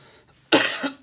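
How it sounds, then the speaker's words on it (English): A single harsh, raspy throat clearing from a live-stream host, close and loud, rising suddenly after a quiet moment and fading over about half a second. "just had to clear my throat"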